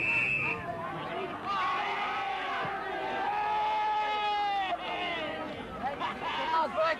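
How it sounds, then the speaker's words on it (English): A football crowd at a VFA match reacts to a controversial free kick awarded in the goal square, with a swelling mix of shouts, cheers and babble from the stands, loud voices rising and falling throughout. "While some of the crowd didn't like it, his supporters were happy."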